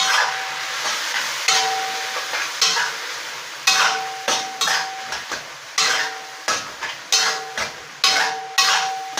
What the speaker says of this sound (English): Stir fry them.